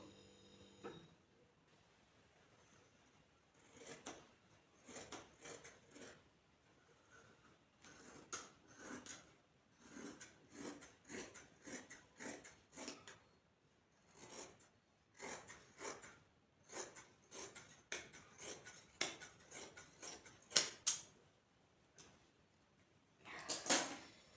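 Scissors cut through salwar fabric in a long run of quiet, close snips, each a short crisp crunch, coming in an uneven steady rhythm with brief pauses.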